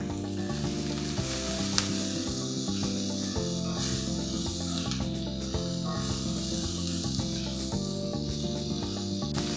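Garlic and serrano pepper sizzling steadily in a hot pan, a continuous close frying hiss with occasional stirring scrapes over a background of soft music.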